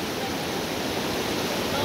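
A strongly flowing river pours past rocks in a loud, continuous, even roar of rushing water that does not let up.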